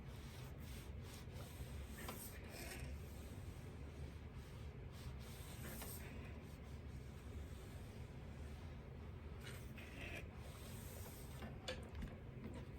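A hand presses and rubs a sheet of paper onto a collage wreath, giving soft, continuous brushing and rubbing noises, faint and steady without talk.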